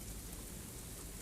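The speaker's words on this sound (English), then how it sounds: "It is raining." Steady rain falls over a garden in a radio drama, a dense, even hiss of drops that stays constant and fairly soft throughout, with no voices.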